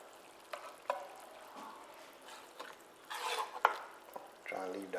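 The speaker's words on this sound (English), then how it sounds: "I got some more catfish to put in. Cook those too. Put these in the pan" Catfish frying in a pan, faint sizzling under soft scraping and stirring with light utensil clinks and pan knocks, growing busier near the end.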